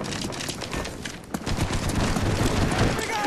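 Rapid machine-gun bursts from a knife-and-gun video game, crackling loud and continuous for a few seconds with a brief dip partway through, under excited player chatter.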